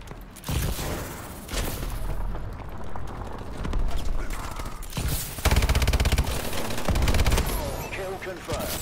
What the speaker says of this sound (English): Enemy Vulcan in orbit.